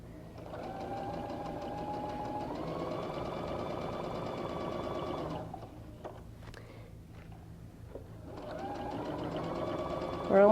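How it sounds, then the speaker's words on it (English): A sewing machine stitches quilt pieces at a 1/4 inch seam for a LeMoyne Star block, running steadily for about five seconds, pausing, then starting again near the end, loud and close with a continuous mechanical whir. "I'm going to stitch them 1/4 inch"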